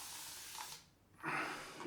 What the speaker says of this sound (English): So I use this spray because it's just easier.